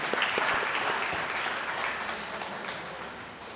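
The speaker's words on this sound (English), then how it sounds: "Big applause for you." A conference audience claps continuously, a dense, even wash of applause that stays fairly loud throughout and fades slightly toward the end.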